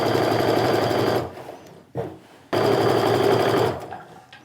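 A sewing machine stitches a 1/4 inch seam on a sling bag in two loud, fast whirring runs separated by a brief pause with a small clunk.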